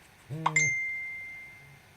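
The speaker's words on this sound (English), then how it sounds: "I should have put my phone on silent and not bothered you with all these ding-dongs." A phone notification gives a single bright ding that rings on and slowly fades in a quiet room.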